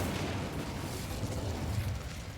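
The Incendio fire spell in Hogwarts Legacy: a steady, loud roaring rush of flame and crackling bursts that fills the whole moment without a break, with no voices over it.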